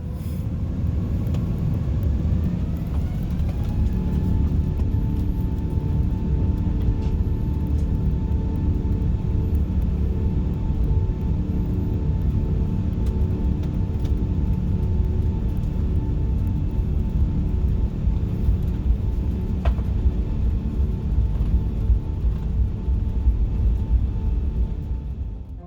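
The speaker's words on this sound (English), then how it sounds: "We were taxiing for about 20 minutes until we finally lifted off." Steady, loud low rumble of a British Airways Airbus A380 taxiing out of Chicago and taking off, heard from inside the cabin as a continuous broadband roar with a faint whine rising early on, no talk over it.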